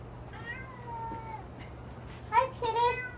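A cat meows twice nearby, first a drawn-out, wavering call, then a louder, more insistent one after a short pause, over a faint low hum.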